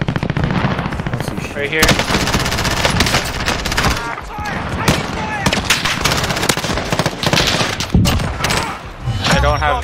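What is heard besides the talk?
gunshots in the video game Warzone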